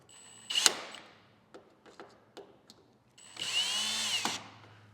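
A power tool tightening latch bolts on a rooftop tent: a sharp burst at the start, then a few brief clicks, then a sustained whirring run near the end, close up with no talk.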